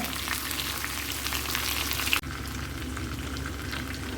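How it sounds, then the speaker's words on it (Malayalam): Already-cooked chicken pieces fry in a pan for a masala dish, a steady dense sizzle that runs alone throughout, with a brief dip and slight drop in intensity midway as the pieces are turned. "അങ്ങനെ 2 വശവും സൈഡും ഒക്കെ ഒന്ന് തിരിച്ചിട്ടിട്ട് നമുക്കിതൊന്ന് വേഗം വറുത്തെടുക്കാം"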